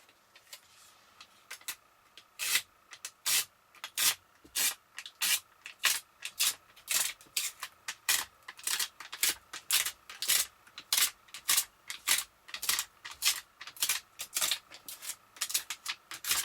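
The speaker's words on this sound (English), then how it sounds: "after the alcohol wipe, we use a dust sticker to remove any dust" A dust sticker is pressed and rubbed across a phone screen, making a quick run of crisp, regular rubbing and tapping strokes, close and fairly loud, repeating steadily without any speech.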